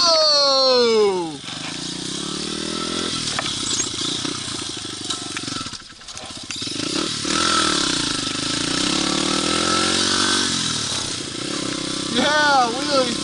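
Pit bike engines rev hard during wheelies in snow during a spring blizzard, loud and close with rising and falling pitch sweeps and sustained high-revving passages, while people shout and talk over them.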